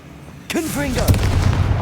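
Confringo blasting spell cast in Hogwarts Legacy: a sudden sharp burst that hits loud, then a roaring, crackling blast that fills the rest of the moment, close and intense, with a brief voice in the mix.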